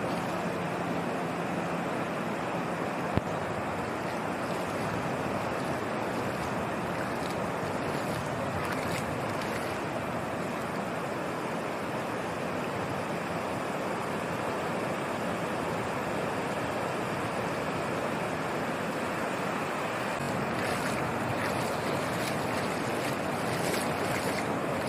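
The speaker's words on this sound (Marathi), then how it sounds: "तुम्ही हा सुंदरसा असा समुद्र बघा" Sea waves roll in as a continuous broad rushing roar, with steady wind buffeting the microphone throughout and no voices.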